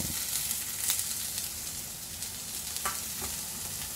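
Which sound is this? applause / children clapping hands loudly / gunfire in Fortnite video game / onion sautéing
onion sautéing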